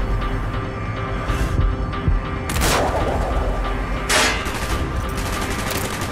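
Sustained gunfire in the Call of Duty: Black Ops video game, with dense automatic bursts and heavy booming shots swelling in loud waves throughout, and no talking.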